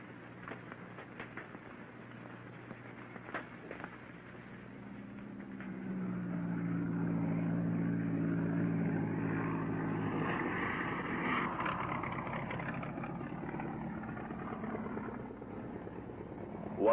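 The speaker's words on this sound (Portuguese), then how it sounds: "O avião traz homens e provisões" A plane carrying men and supplies to a remote jungle tribe's territory drones in from about six seconds, a steady loud engine roar that swells and holds overhead, alone with no voices.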